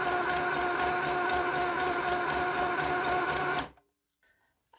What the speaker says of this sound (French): Alors tentons un point zigzag.